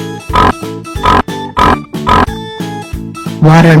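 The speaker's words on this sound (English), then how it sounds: "Pig." Pig grunting and oinking in a series of short, loud bursts, set over a steady rhythmic music backing.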